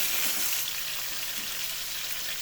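Meat frying in a silver kadhai as ginger-garlic paste is stirred in, giving a steady, dense sizzle with soft scraping beneath, close and continuous throughout.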